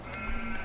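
A single sheep in the Farming Simulator 15 video game lets out a short, clear bleat with a wavering tone, close and fairly loud, with no talk over it.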